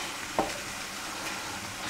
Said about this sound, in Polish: Niech ta cebula zaczyna się tutaj już smażyć z tym mięsem.